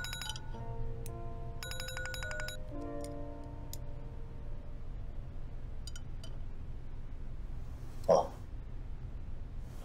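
A phone rings with a repeated electronic ringtone, clear chimes in the first few seconds that then fade, with a sharp knock near the end.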